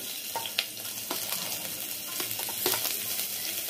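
Chopped garlic, three cloves, drops into hot oil over low heat and fries with a steady close sizzle, punctuated by a few scattered crackles and stirring clicks, with no voices.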